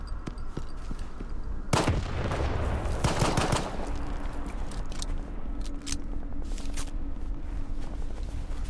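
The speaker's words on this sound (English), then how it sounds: "Are you guys hearing all these shots?" Repeated gunshots echo through the video game S.T.A.L.K.E.R. 2: scattered single cracks and heavier bursts, a couple of them loud and close, others distant, all over a steady rumbling background.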